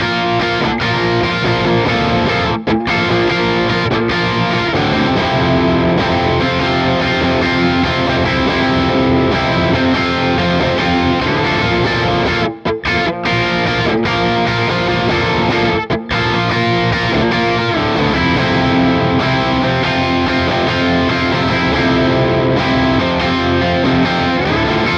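Distorted humbucker tones from an Airline Jetsons '59 2P electric guitar, a dense, loud and continuous overdriven riff with sustained chords and brief stops over about 25 seconds, no talking.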